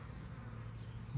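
Honey bees drone steadily at an open hive, a dense, continuous buzz that stays close and even throughout without any voices.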